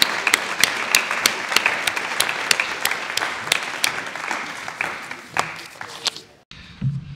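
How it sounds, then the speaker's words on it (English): Applause at a Year 12 high school graduation ceremony, a hall full of people clapping with sharp individual claps standing out over the crowd, then cutting off abruptly near the end. "Give these students a round of applause"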